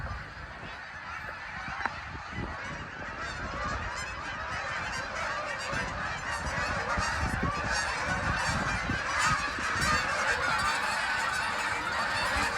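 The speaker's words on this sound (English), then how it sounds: "The whole sky is filled with birds." A large flock of geese honks continuously overhead, a dense chorus of many overlapping calls at steady volume.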